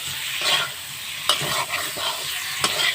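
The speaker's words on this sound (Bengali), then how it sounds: "মাংসটা দিয়ে কিছুক্ষণ নাড়াচাড়া করতে হবে।" Chicken meat stirred in a hot pan for a chicken curry with potatoes, a loud sizzle under scraping spatula strokes, with a few sharp clicks as the pieces are pushed around, close and without talk.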